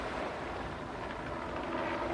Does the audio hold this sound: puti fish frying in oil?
no